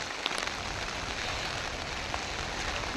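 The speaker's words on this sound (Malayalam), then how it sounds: "നല്ല മഴ ആണ് പുറത്ത്" Heavy rain pours down outdoors in a steady, dense hiss of drops striking surfaces, with no let-up across the whole stretch and no voices.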